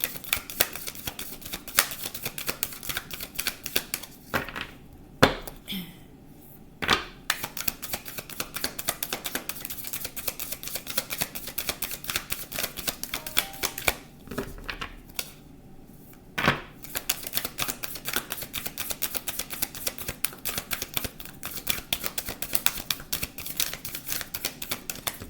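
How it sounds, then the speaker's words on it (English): Continuous rapid riffling and flicking of tarot cards being shuffled, dense and crackly, with two brief pauses before the shuffling resumes. "Gotta get in position to shuffle these cards."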